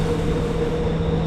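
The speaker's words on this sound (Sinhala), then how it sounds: "දැන් මෙතන ට්‍රේන් එකක් තියෙනවා." A metro train at a Singapore station gives a constant low rumble and hum, with a steady tone throughout and no voices.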